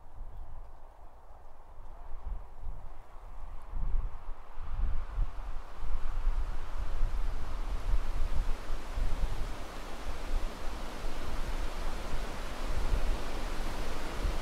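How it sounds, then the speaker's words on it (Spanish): Steady, broadband wash of a waterfall pouring into a small lake, a continuous soft roar with no distinct events, moderately quiet and even throughout. "A lo lejos puedes ver un pequeño lago con una hermosa cascada."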